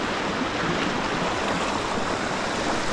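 Hot river water, around 50–60 degrees, flows in a steady, dense broadband rush that stays loud and unbroken throughout, with no voices.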